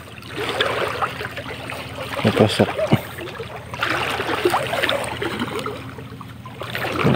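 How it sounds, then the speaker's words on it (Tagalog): A strong river current among mangroves flows in a continuous rushing wash with splashy surges, moderately loud and near, while someone speaks briefly over it. "Lakas lang ng agos."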